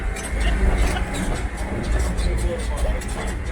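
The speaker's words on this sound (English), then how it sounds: "Hold on to your hats because this tram ride is equal parts informative and bumpy." A bumpy, rickety tram ride on a campus, with a continuous loud low rumble and rattling throughout and faint clacking of the cars over the track.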